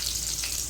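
Ridge gourd pieces fry slowly in oil, a steady close crackling sizzle with a bright hiss that continues evenly for under a second.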